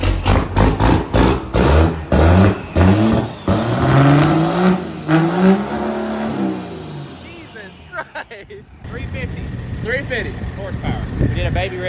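A 1100-horsepower fifth-generation truck engine revs hard on a dyno, deep rising and falling bursts close and loud, then settling to a rougher lower drone, with people talking over it.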